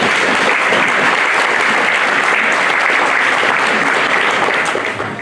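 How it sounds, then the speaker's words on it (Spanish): An audience at an anniversary gathering applauds a guest being introduced, loud dense clapping that holds steady for several seconds and then begins to fade. "Fuerte el aplauso, por favor."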